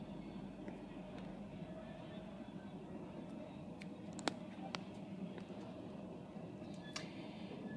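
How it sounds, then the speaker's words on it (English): An empty Ohio Central coal train passes on the railroad near a crossing, a steady broad rumble of rolling wagons with occasional sharp clanks and ticks, moderately close and continuous throughout. "This is the coal train."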